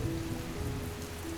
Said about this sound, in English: The rain began to fall,